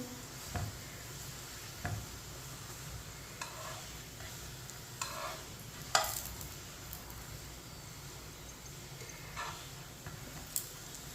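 A paratha cooks and gets turned on a hot pan, with a steady low sizzle and a few sharp taps and clicks from the spatula scattered through, close and fairly quiet with no voices.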